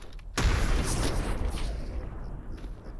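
A sudden loud boom bursts in, followed by a rumbling, crackling roar of a bomb explosion in the video game S.T.A.L.K.E.R. Anomaly that slowly fades.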